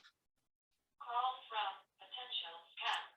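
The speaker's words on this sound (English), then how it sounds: "sorry for the phone ringing" A telephone rings during a pollinator site preparation workshop, sending out several short, bright bursts with small gaps between them at moderate volume against an otherwise quiet room.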